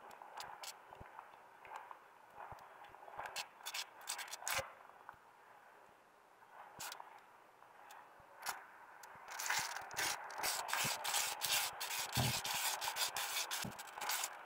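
A spoon scrapes and rubs around a pan while guava paste melts for a cornmeal cake, soft irregular scraping strokes that grow busier and louder toward the end, close and fairly quiet.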